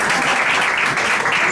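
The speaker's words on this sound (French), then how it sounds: "je voudrais qu'on applaudisse très fort" A live concert audience applauds loudly in the hall, a dense, steady burst of clapping that fills the whole moment without letup.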